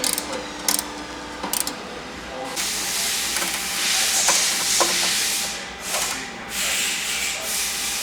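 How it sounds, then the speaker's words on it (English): A traction board mount bracket on a Sherpa window panel is tightened down with a tool, giving close scraping, ratcheting and rubbing sounds over a steady hiss, with a few sharp clicks early on. "we're going to tighten that one down there, and then we're going to tighten down this one"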